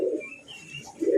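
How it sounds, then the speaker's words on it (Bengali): A pair of racing pigeons coos in two soft, low bursts, one at the start and one at the end, with a quiet gap between them. The sound is close and clear with no talking. "দুর্দান্ত কোয়ালিটি এক জোড়া মিলি রেসার কবুতর আছে"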